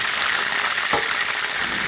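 Crab frying in a pan of hot oil, a steady, close crackling sizzle with one brief louder pop partway through.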